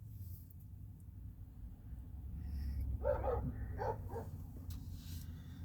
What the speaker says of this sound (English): Some dog's driving by on the highway going crazy.